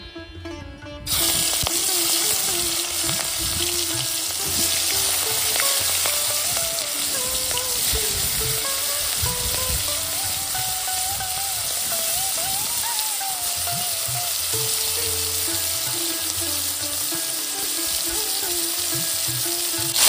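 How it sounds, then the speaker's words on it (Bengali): Prawns hit hot oil in a kadai for chingri malai curry, bursting into a loud, dense sizzle that crackles on steadily for about twenty seconds after a sudden start. "তেল গরম হয়ে গেছে, চিংড়ি মাছগুলো ভেজে নিচ্ছি।"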